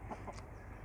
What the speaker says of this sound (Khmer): នេះមាន់ខ្មងបាទ